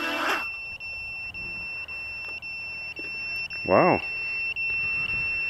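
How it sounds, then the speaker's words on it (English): Countdown timer beeping during a Walkera F210 drone flight session, a steady series of sharp high electronic beeps repeating about once a second, with a brief voice exclaiming partway through. "Well, there we go, that's our timer."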